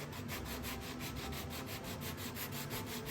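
Furniture corners being sanded with an 80-grit hand sanding tool, a faint continuous back-and-forth rubbing scratch with an even rhythm, close and alone.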